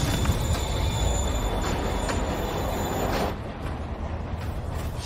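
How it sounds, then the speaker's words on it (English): A moving train in the Spider-Man Remastered video game rumbles steadily and loudly, with a continuous rolling roar and faint high squeal that drops slightly in level near the end. "Train moving. Police getting away."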